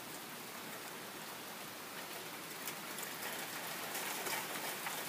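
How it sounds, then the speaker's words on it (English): Rain falling outdoors, a soft, steady hiss of drops on surfaces that stays faint and even throughout, growing slightly louder near the end. "It's raining, Arden."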